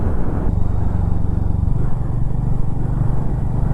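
A Mavrick 440 motorcycle cruises along a foggy mountain road on a morning ride, its engine a loud, steady throb with wind rumble, heard up close from the rider's position.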